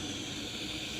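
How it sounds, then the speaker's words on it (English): BRS-61 camping gas stove burner roaring steadily while half a litre of water comes to a rolling boil, a constant close, even hiss with no pauses. "Half a litre coming to a rolling boil in the BRS-61."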